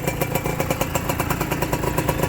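A Honda NSR two-stroke motorcycle engine runs steadily close by, a continuous buzzing drone with rapid regular pulsing and no talk over it.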